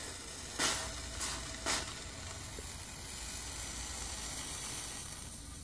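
Windex sizzles on hot metal right after heat anodizing, a steady close hiss with three short sharper spurts early on before settling into an even, softer boiling sizzle, no voices present.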